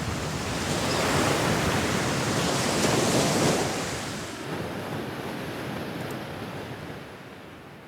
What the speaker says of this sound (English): And then the last clip here, we have some ocean waves.